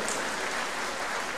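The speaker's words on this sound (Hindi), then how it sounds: "ताली नहीं बजाओ" Audience in a hall in Kathmandu, Nepal, applauding steadily at a spiritual talk, a dense, even wash of clapping that holds for the whole moment without a break.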